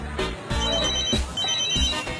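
A cellphone ringtone plays loudly and close, in repeating melodic bursts with brief gaps, in a Thai horror film scene.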